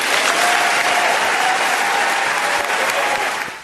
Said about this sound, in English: The speech was met with applause at the small Catholic college.